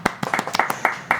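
A crowd claps in a short, scattered burst of about eight separate hand claps, fairly close and uneven in rhythm, as an audience greets a recognized social media personality at an event.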